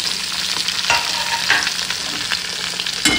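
Chopped onion, ginger and garlic frying in hot oil, a bright continuous sizzle with several sharper crackles and stirring scrapes, close and fairly loud, no voices.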